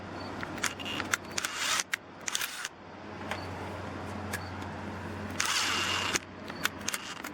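A Dewalt 12V impact driver in self-tapper mode trying to drive a screw, with several bursts of whirring and clicking that start and stop close by over a low hum.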